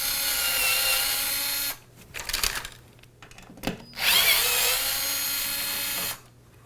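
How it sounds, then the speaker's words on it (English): An electric screwdriver backs two bolts out of a DDC Sport M1 folding e-bike while the footrest is being fitted: two long, loud, close whirring bursts with quieter clicks and handling clatter between them. "so I'm using an electric screwdriver"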